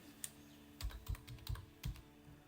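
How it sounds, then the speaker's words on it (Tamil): Keys clatter on a computer keyboard in a few quick, irregular bursts while a name is entered for a music website design, faint and close with no talking. "அதுக்கு நான் ஜஸ்ட் ஒரு நேம் ஒன்று டைப் பண்ணிக்கிறேன்."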